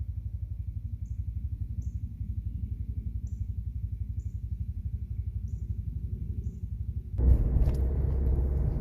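A vehicle drives along a road with a steady low engine rumble and faint repeating ticks, then a louder surge of road noise near the end.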